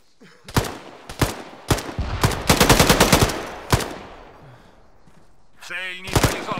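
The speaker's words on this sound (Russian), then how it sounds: "Пулемет — это вообще тема." Machine-gun fire in the combat game Arma 3: several sharp separate shots, then a dense rapid burst, then more single shots, loud and close, with radio-style voices talking around the gunfire.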